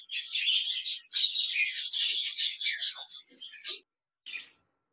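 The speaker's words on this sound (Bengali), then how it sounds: "এখানে দেখতে পাচ্ছেন একজোড়া জাপানিজ বাজরিগার রয়েছে" A pair of Japanese budgerigars, a double-flower running pair, chirp and chatter in rapid bright bursts close by, a busy warbling stream for about four seconds, then a pause and one short final chirp.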